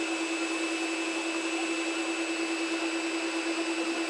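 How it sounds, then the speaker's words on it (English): An electric food mixer whirring steadily as it mixes coconut slice dough into crumbs, a constant loud motor hum with no change and no talking. "once it looks like it's all mixed, you can turn the mixer off"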